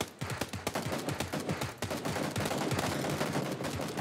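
Rapid bursts of automatic gunfire in the shooter game PUBG, a dense loud fusillade of shots running throughout with no talk.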